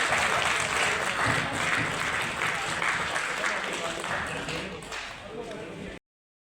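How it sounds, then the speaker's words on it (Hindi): A crowd claps steadily to welcome guests at a journalists' association gathering, dense applause that tapers slightly before cutting off abruptly. "उनका तालियों के साथ स्वागत करेंगे।"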